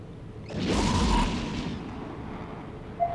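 A Cyclone ship blows up in the EVE Echoes video game, a deep rumbling explosion that swells, holds for about a second, then fades into a low drone, with a brief tone at the end.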